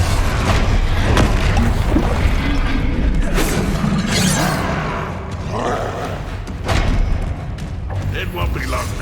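In Hogwarts Legacy, the Incendio fire spell is cast in gameplay: repeated whooshing bursts, booms and crackling impacts mixed with game noise and a voice calling out.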